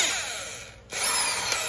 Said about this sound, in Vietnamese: con khoan đầu kẹp 10 ly, có điều tốc, có đảo chiều